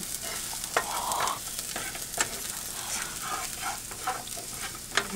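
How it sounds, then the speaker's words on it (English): Garlic sautes in a hot pan with a steady, close sizzle throughout, broken by a few sharp stirring clicks and scrapes. "So I'm going to saute up the garlic right now."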